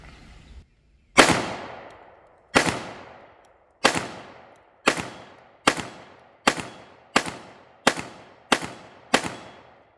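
CCI Stinger 22LR rounds are fired one at a time from a Ruger LCP II handgun, ten sharp loud cracks, the first shots spaced out and then coming faster and steadier, each with a short ringing tail, with no talking.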